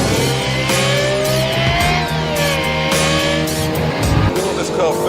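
A Lexus LFA sports car's engine roars loud and close, a high, sustained race-car wail with shifting revs and a constant low rumble throughout.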